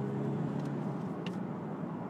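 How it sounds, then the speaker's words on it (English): A 2016 Hyundai Tucson 1.7 CRDi diesel accelerates in second gear from about 30 km/h at 1500 rpm. Its engine and road noise make a steady, loud, low drone throughout, with no talking. "let's accelerate now from 1500, from about 30 kilometres an hour"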